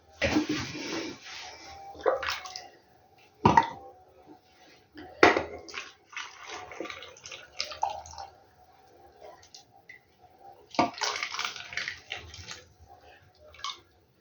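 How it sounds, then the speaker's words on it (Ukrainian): Vinegar marinade poured from nearby into glass jars of mixed pickled vegetables, with several short splashing pours and sharp clinks of glass separated by quieter pauses, with no talking. "І зараз буду вже заливати у баночки його."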